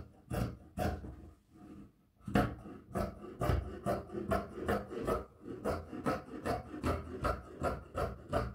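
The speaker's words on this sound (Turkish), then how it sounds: "Ben kumaşım likrasız olduğu için düz cetvelle çizdiğim çizgiden keseceğim." Scissors cut through non-stretch fabric along a drawn line, a close, rhythmic series of crisp snipping and rasping strokes, quiet and unaccompanied by speech.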